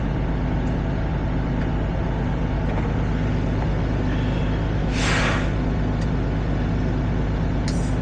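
Air ride suspension on a 2023 Kenworth W900L truck is set over the loud steady drone of the truck's idling engine, and a short sharp hiss of released air bursts out near the middle.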